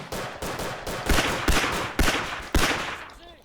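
Semi-automatic rifle fire in the World War I shooter Verdun: six sharp, loud shots at a steady roughly half-second rhythm, each cracking out and decaying into echo before the next, with no talk.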